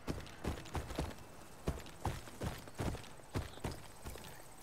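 Mount ridden across open terrain in Horizon Forbidden West, with a steady clip-clop of hoof-like steps, roughly a dozen even beats at a walking pace, close and moderately loud.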